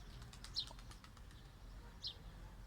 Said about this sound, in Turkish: Kanat sesi yerine gelmiş ama.